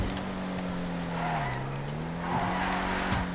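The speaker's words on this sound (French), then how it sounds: "on va rouler, ça va nous donner l'occasion de tester le véhicule" A Benny's-customized BF Weevil car drives in the video game GTA Online, its steady engine drone shifting pitch as it accelerates, with tires squealing in brief skids near the end.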